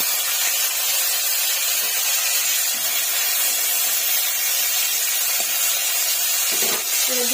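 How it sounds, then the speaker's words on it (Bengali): Bay leaf and chopped tomato hitting hot oil in a pan for a Bengali fig curry, giving a steady, loud broadband sizzle and hiss that carries through the whole stretch, with a few small clinks near the end. "তেল একদম নাপিয়ে নিয়ে এবার দিয়ে দেবো একটা তেজপাতা দিয়ে দেবো একটু টমেটো"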